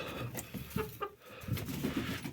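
A hen, likely a Leghorn, clucks softly in the coop in a few short, low murmurs close by with no talk.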